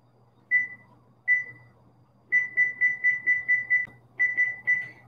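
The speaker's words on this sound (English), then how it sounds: "Setting the timer for 10 minutes." Electronic oven timer giving short, high beeps while being set, first two single beeps, then a rapid run of about seven, then three more, clear and close in a quiet kitchen with a low steady hum beneath.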